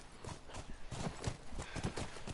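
Horses in The Last of Us video game give out nearby hoof clip-clops in an uneven rhythm mixed with snorting and shuffling, moderately loud and close.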